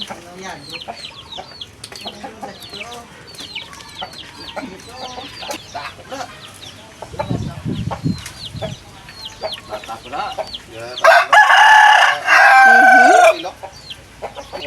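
Chickens cluck and call amid background chatter, then a loud rooster crow rings out close by near the end.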